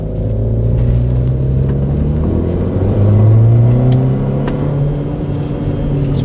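A car engine is held at high revs for a decibel reading, giving a loud, continuous roaring rumble that swells slightly midway and never drops to idle.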